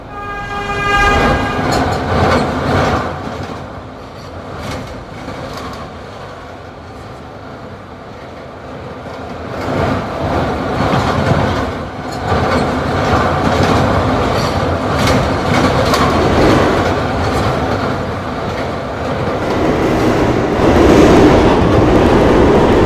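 A New York subway E train runs steadily, with loud rumbling wheels, rail clatter and a brief horn-like tone near the start, all continuous and close.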